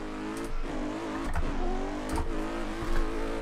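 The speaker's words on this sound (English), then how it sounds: "Oh, that's a misshift. Don't want to do that in competition." A race car engine in a driving game revs up and falls off after a missed gear shift, with a steady loud drone and a few short surges, driven with a wheel and pedals.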